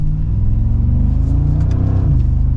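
A Mercedes-Benz G63 AMG engine and exhaust rumble loud and close during a test drive, a deep continuous drone with a slight rise as it pulls, and no voices.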